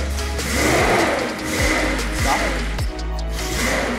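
Original engine of a vintage T-top car with a manual sunroof starting up: the motor catches and settles into a loud, steady near idle with a couple of brief dips, no talk over it.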